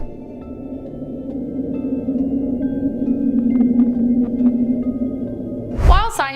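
A mysterious underwater ocean noise recorded by NOAA in 1999 rises as a steady low droning hum that slowly swells, then fades, ending in a brief sharper burst.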